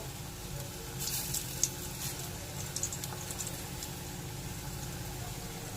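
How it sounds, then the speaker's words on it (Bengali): Lentil fritters sizzle steadily in hot oil, a continuous crackling hiss with small pops, heard alone and fairly close. "হালকা লাল করে বড়াগুলো ভেজে নেব।"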